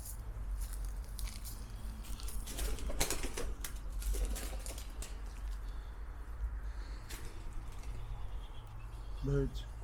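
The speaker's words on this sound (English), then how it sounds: "Birds. Feathers coming now." Pigeons in an English graveyard flap their wings in short, soft bursts. Near the end comes a brief coo over a steady low background hum, with voices present.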